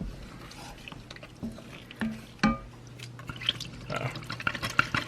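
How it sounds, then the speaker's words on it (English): Tomato juice drains from canned tomatoes in a kitchen, quiet intermittent dripping and trickling with small clinks of the can, faint and close. "let that juice drain, and as it drains,"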